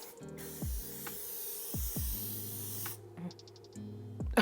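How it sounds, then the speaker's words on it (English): Aerosol makeup setting spray hisses in a few short bursts, a close, bright spray of mist, alone with no talking. "So let's use this to set that spray and the rest of my makeup."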